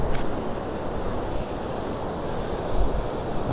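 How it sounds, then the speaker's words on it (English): Sea waves rolling ashore at San Telmo (Sant Elm), Mallorca in January, a steady close wash of surf mixed with gusty wind buffeting the microphone, with a slightly stronger surge near the end and no talking. "just watch the waves rolling in"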